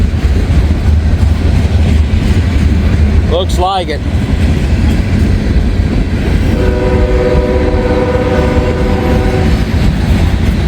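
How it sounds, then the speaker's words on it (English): A big CSX freight train rolls past in Kentucky with a loud, steady rumble and clatter of wagons, a brief warbling horn-like tone near the start and a sustained squealing tone later, while someone talks briefly. "this might be the big train I saw crossing the Ohio River earlier"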